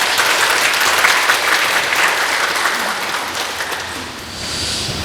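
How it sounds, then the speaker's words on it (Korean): Loud, sustained applause from an audience at a citizens' briefing on Gwangmyeong's bid for a science high school, dense clapping that fills the room and eases slightly toward the end. "함께 의견을 좀 해주신 분들 박수 한번 주시면."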